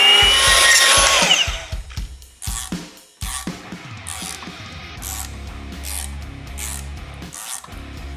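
A power cutting tool slices through the 90-degree angle arms of a Chevrolet Suburban clutch linkage, starting with a loud harsh grinding burst and followed by a series of metallic clanks and knocks.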